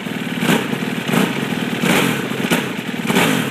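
A 2007 Aprilia RXV 550 fuel-injected dual sport race motorcycle revs close by, with several quick rises and drops in engine note over a steady rough idle.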